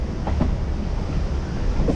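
A MEMU passenger train runs from Rajahmundry to Vijayawada past fields in the early morning, its wheels and carriages giving a steady, close rumble with a few faint clacks and wind buffeting the microphone.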